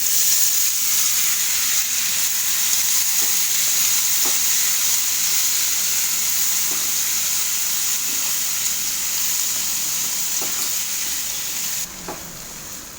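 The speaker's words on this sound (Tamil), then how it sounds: "கொஞ்சம் லைட்டாக நல்லா வதக்கிக்கலாம்." Boiled horse gram is sautéed with curry leaves and asafoetida in a pan. It gives a steady, even sizzle and hiss with faint, sparse stirring taps, and there is no talk over it.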